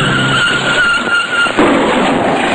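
A car skidding to a stop in a film scene, tires squealing loudly over engine noise in one sustained screech, heard alone.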